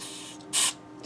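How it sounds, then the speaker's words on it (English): A short, sharp hiss of a spray can blasting cleaner into the electronics and 5-way switch of an Ibanez Talman electric guitar, one burst of about a fifth of a second over a quiet room. "spray a little bit of that in the 5-way switch"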